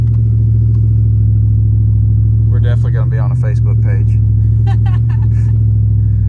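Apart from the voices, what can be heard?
truck revving, tires slipping on snow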